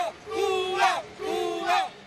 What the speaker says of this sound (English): Look at the cheering down in Parque Central in Havana